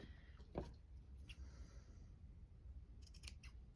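Scissors snip and trim crochet yarn on a champagne cork ornament, a few soft close-up cuts scattered over quiet room hiss.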